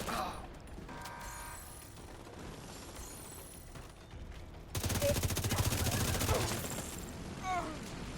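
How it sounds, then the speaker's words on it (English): Rapid automatic gunfire bursts out during the Iron Horse raid as mortars are shot down, a loud sustained rattle for a couple of seconds after quieter ambient game sounds and mechanical clicks. "Okay, so they're shooting the last mortar down."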